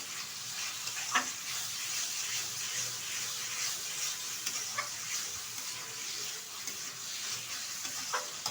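Mushrooms and chopped tomato with coriander leaves cook in a pan, a steady close sizzle of frying with occasional scraping and clinking as they are stirred, continuous and alone without speech.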